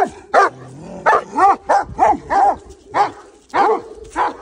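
Several dogs barking close by in a yard, with repeated sharp barks and yips coming in an uneven rhythm. A person speaks briefly among them.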